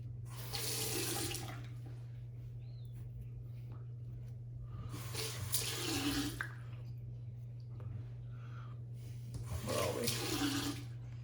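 Water runs from a tap into a sink in three separate bursts of a few seconds each, with a constant low electrical hum underneath while shaving soap is prepared.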